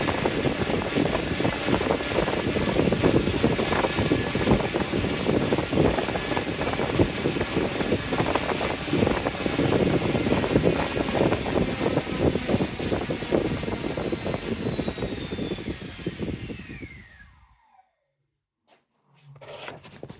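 An RC2211 or RC2212 brushless RC motor runs steadily under a power test with a high whine and a loud rushing roar, then winds down and cuts out near the end.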